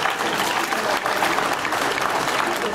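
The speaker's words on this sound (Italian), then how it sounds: "un grande applauso ragazzi" Loud, dense audience applause at a live summer beauty event in Gabicce Mare, continuous and even for the whole stretch with no voices on top.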